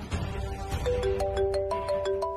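A mobile phone ringtone plays a rising, repeating melodic phrase, clear and fairly loud over a low background hum in an indoor scene from a Hindi TV drama.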